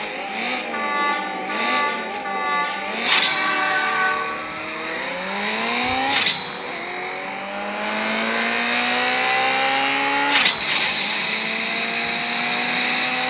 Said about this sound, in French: On met les gaz. Et voilà, la petite Golf qui passe la ligne d'arrivée.